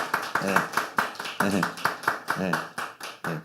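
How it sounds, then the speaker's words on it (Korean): A church congregation clapping to welcome visitors during a Sunday service, a few seconds of rhythmic group claps with voices talking over them. "우리 박수 한번 내주시고"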